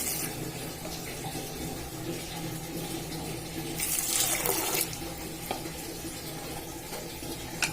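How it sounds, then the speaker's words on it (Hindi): Water poured from a jug into a pot of soaked kidney beans for a rajma masala dish, a steady close splashing rush that swells briefly midway, with no talking. "एमे हम पानी डाले छिए, ए जग से 2 जग"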